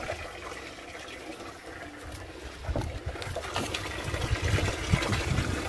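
Cattle drink from a reservoir in a gentle watery lapping and trickling, soft slurps and splashes building slightly louder midway, heard close in an open outdoor setting without talk.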